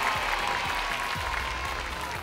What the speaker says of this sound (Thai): ปรบมือให้มาสเตอร์กูรูหน่อย